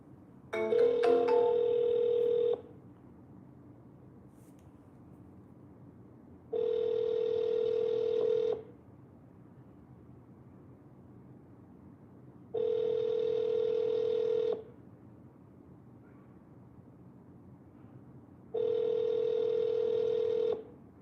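Phone call ringback tones: after a brief burst of keypad dialing beeps, four evenly spaced two-second rings with long silent gaps between them, clear and close.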